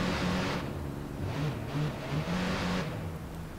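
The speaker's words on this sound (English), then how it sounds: "That's what it sounds like when you're revving it." The Cavale's engine revs repeatedly in Watch Dogs 2, several rising and falling pulls in quick succession over a steady mechanical drone, close and fairly loud with no talking.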